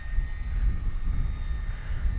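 An FMS Kingfisher high-wing RC model plane flies on a windy day with a Spektrum AR620 receiver aboard, its engine drone steady and moderately distant, buffeted by low rumbling wind noise throughout.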